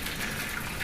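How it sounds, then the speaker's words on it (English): Freshly boiled water pours steadily into a roasting pan holding rubbed baby back ribs, a continuous close gushing splash with no talk over it. "All I'm going to do to this is add some freshly boiled water."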